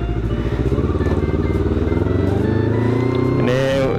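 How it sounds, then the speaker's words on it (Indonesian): Motorcycle engine idling while being warmed up before a Sunday morning group ride, a close, loud, steady throbbing that runs throughout with a brief rev near the end. "Ini sekian lama nih motor juga gak pernah dipanasin"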